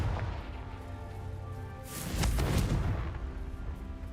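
Confringo fire spell from a Harry Potter video game bursting in a rumbling, muffled boom that swells then fades into a low, noisy rumble.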